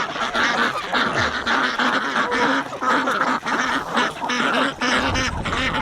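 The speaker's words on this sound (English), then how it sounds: "All of those are wild ducks and geese that are mooching here for winter" Wild ducks and geese wintering on a pond quack and honk in a dense, continuous chorus, loud and close, with overlapping calls throughout.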